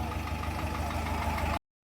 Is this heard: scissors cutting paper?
no